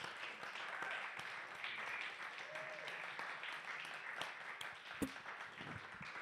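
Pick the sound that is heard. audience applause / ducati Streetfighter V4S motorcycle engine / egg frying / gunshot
audience applause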